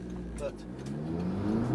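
An Audi S3 accelerates away from a junction, its engine note climbing steadily in pitch and loudness over a couple of seconds after a single spoken word.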